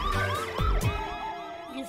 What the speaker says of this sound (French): Ok, j'ai entendu, j'ai compris, il y a une sirène.